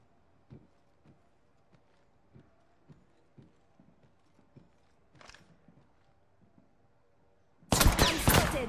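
Automatic gunfire bursts loud and close in a battle royale shooter game, arriving suddenly near the end after a stretch of quiet, evenly spaced footfall-like thuds and a brief whoosh.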